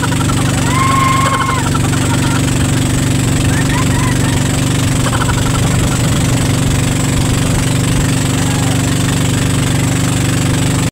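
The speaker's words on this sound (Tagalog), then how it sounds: "And alam niyo ba guys, sobrang saya ni Jaffe makasakay ng bangka." A boat engine on the Enchanted River in Hinatuan drones steadily with a low, throbbing hum, continuous from start to end, with a faint voice briefly audible early on.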